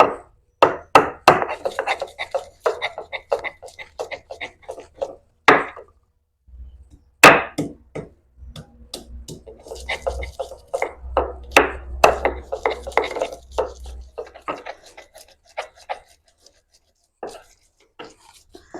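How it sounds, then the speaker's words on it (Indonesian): Pepper, turmeric, shallots, garlic and ginger are ground with a pestle in an ulek mortar, giving repeated irregular knocks and scraping grinds, some in rapid clusters and some spaced out, with a low hum underneath for part of the time. "kemudian lada bubuk secukupnya aja, kunyit bubuk. Lanjut kita ulek ya."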